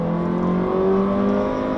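A 2016 Jeep Renegade Trailhawk with its 2.4-liter Tiger Shark engine pulls steadily under acceleration, a strained, somewhat coarse drone with rising tones held at a constant loudness and no voices over it.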